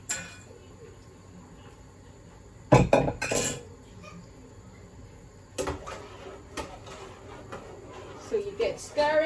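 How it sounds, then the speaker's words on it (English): Rice porridge stirred in a pot while cooking Jamaican-style, the spoon knocking and scraping with clinking bursts, loudest around the middle, over a low background murmur. "So you get stirring."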